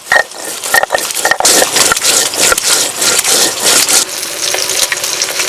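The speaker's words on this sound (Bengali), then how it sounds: "ততক্ষণে আমি শিলে মশলাটা বেটে নেব।" Spices are ground on a stone grinding slab, with repeated rough rubbing strokes in an uneven rhythm, close and fairly loud.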